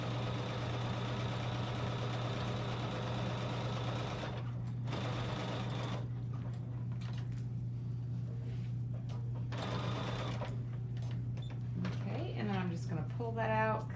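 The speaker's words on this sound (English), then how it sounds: "I'm just going to veer off and stitch a 45-degree angle right into that corner" Sewing machine stitching binding onto a T-shirt quilt, a steady close mechanical hum with a strong drone, pausing briefly twice before running on, with a person speaking over it.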